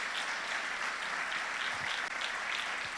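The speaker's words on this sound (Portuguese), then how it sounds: "Aplauda mais forte o Senhor." Church congregation applauding during a Sunday worship service, a steady dense wash of clapping that holds throughout at fairly even loudness, with no talk over it.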